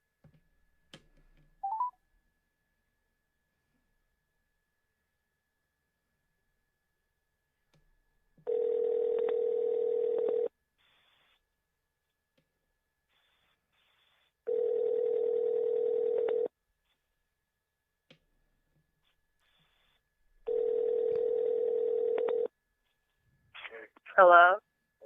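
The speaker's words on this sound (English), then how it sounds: "We're going to go ahead and give MC Juice, the legend himself, a phone call right now" A telephone call being placed: a few brief dialing tones, then three evenly spaced ringback tones of about two seconds each with long silent gaps, clear and steady, ending in a short burst of sound as the line picks up.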